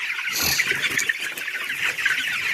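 A dense chorus of many broiler chickens clucking and chattering continuously on a poultry farm, steady and fairly loud, like a crowded coop.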